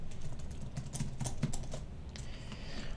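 Fingers type on the aluminum-bodied Brydge Pro+ keyboard case for the iPad Pro, a quick steady run of close, soft key clicks over a quiet room.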